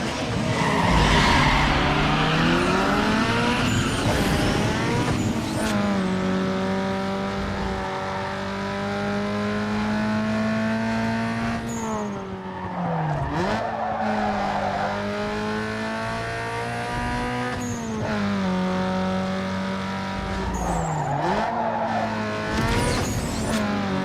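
Racing cars in Need For Speed Underground 2 with a Nissan GTR: a loud, steady engine drone with shifting pitch through gear changes, tire squeal and skidding in bursts, continuous throughout with no talk.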